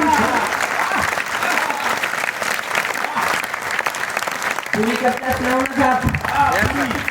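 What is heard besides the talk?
audience applauding a poet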